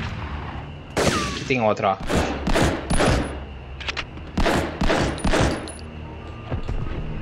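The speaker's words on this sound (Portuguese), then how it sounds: "Quem é que tá me atirando?" Gunfire in the PlayStation 1 game Medal of Honor, a mission level, a series of loud repeated shots and bursts mixed with game sounds while someone talks over them.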